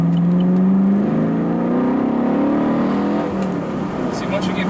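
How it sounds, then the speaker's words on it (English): A Chevrolet Camaro SS 1LE V8 engine, heard close, blips and rises in rev-matching pulls with a strong throaty drone. A voice speaks over the engine. "Let me get some rev matching for you guys here. Oh, love that sound."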